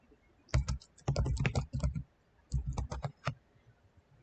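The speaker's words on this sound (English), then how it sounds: "I'm gonna say hello and type in case you don't have can't hear anything." Bursts of quick key clicks from typing on a computer keyboard during a live chat stream, close and clear, arriving in two runs separated by a short pause, with no talking.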